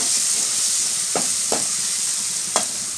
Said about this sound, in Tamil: இப்போ வந்து அந்த கொத்தமல்லி பச்சை மிளகா பச்சை வாசனையெல்லாம் கொஞ்சம் எண்ணெயிலேயே நல்லா வதக்க விட்டுடலாம்.